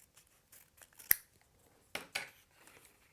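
Scissors trim a paper pop-up piece for a jumping figure, giving a few soft, quiet snips spaced apart, one sharper cut near the start and two more shortly after, in an otherwise quiet room.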